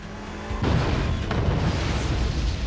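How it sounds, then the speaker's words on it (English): Pyrotechnic explosion on a third-scale miniature film set, a loud boom bursting in after a low hum and rolling on as a sustained blast roar, with a second burst soon after; no voices. "rigging up all the pyro so that we have big enough explosions so that it looks really destroyed and really cool on film"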